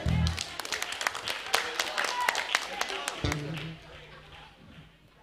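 Audience clapping for a band at a virtual Christmas concert, a dense run of claps that starts strong and thins out toward the end, with a brief low thump partway through.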